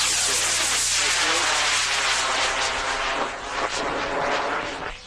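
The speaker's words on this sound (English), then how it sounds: "It must be going after that plane." Aircraft roaring overhead, a loud continuous broadband rush of engine noise that holds steady throughout and dips briefly before surging again.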